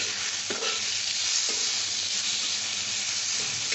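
Turmeric mixture stirred in a hot cooking pan, a steady broadband sizzle with a few scraping strokes of the spoon, close and continuous throughout.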